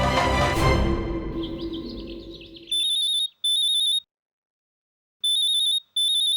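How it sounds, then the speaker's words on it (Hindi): A mobile phone left behind rings with a repeated electronic chirping tone, four sharp bursts in pairs separated by a pause, loud and alone after a fading crash at the start. "लगता है गोपी वो अपना मोबाइल फोन यहीं भूल गई"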